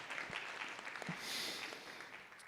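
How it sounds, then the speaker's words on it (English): Fairly faint applause breaks out at a school board meeting for an honored teacher, a brief patter of clapping with a few sharper individual claps scattered through it. "Round of applause for Judy Marcus."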